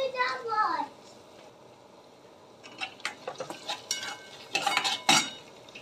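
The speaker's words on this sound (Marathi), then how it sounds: "कांद्यासोबत आलं लसूण पेस्ट छान परतवून घ्यायची" Onion with ginger-garlic paste being stirred in a pan, with a spoon scraping and clattering in an irregular burst of knocks near the end after a quieter stretch.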